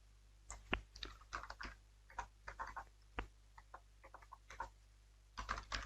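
Quiet keystrokes on a computer keyboard come in irregular short bursts of soft clicks with brief pauses between, close by and faint over a low steady hum.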